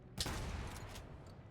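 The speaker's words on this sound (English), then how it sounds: "Gunshot." A sharp, loud burst of video game gunfire from a 2014-era action title, a quick rattling volley of shots tailing off within about a second.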